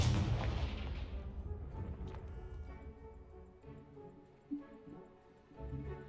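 A Confringo spell blast explodes in Hogwarts Legacy, opening with a loud booming burst that rumbles and decays over several seconds, followed by scattered debris clatter and a small thud.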